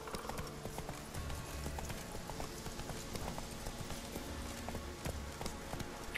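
Horse hooves clip-clop in a steady trotting rhythm along with faint ambient game sounds, from The Witcher 3 video game.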